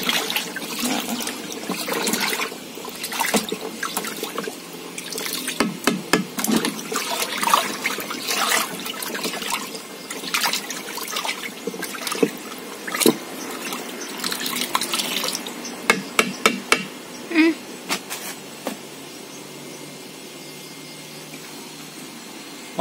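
Liquid organic fertilizer (POC) shaken in a container, giving continuous close sloshing with a string of sharper splashes and knocks midway, then settling into a quieter steady wash toward the end.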